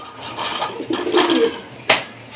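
A female gorra pigeon coos in soft, rounded low phrases close by, several throaty calls in a row, ending with a brief sharp rustle or flap.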